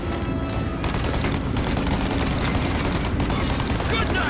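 Gunfire aimed at a car's tires in Mafia Definitive Edition, a dense, loud stretch of rapid shots and booming bursts running continuously throughout.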